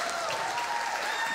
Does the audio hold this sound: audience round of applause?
yes